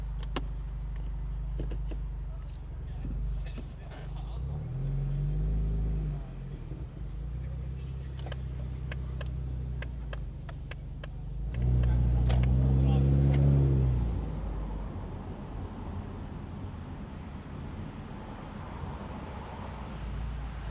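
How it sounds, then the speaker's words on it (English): A Ford Mustang engine rumbles with a deep active-exhaust note, roof down, swelling in two revving surges in sport mode, while a person talks over it. "You can already hear the active exhaust."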